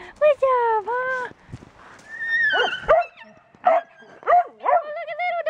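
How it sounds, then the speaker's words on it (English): Homeless shelter dogs bark, yip and whimper in a series of sharp, close calls with short gaps between them, and a person talks in between. "Look at dog!"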